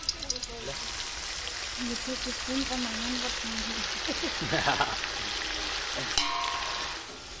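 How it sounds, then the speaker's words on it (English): Curry sizzling and frying in a pot over an open fire, a steady crackling hiss with stirring clatter, while voices and background chatter carry on around it. "We cut up the vegetables and then make a curry using an open fire just like at camp."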